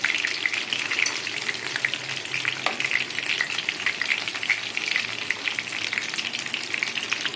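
Mushrooms frying in a pan and being turned over, giving a dense, crackling hiss that stays close and fairly loud throughout, with small popping spatters scattered through it and no voices.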